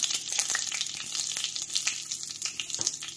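Dried red chilli and curry leaves crackle and sizzle in hot oil for ragi moringa adai chutney tempering, a dense close hiss peppered with rapid pops and spits throughout.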